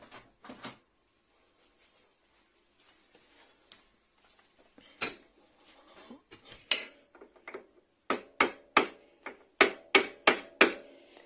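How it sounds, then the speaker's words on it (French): Sharp metallic hammer taps on a seized scooter wheel axle, a few scattered at first, then a quick regular series of about a dozen strikes, close and fairly loud. "Donc un tout petit coup de marteau"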